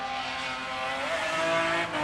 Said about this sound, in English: absolutely screaming at the M3 under the bonnet of that E36 Touring as he fires his car in